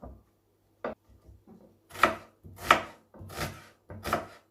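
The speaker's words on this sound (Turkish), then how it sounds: "Soğanları da çok ince doğramamıza gerek yok arkadaşlar" Knife chopping onions coarsely on a cutting board: a single chop, then four heavier, rhythmic cuts, close and fairly loud, with no talking.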